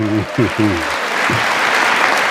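An audience applauds a political speech with steady, dense clapping that fills the space, while a voice talks over the start of the applause.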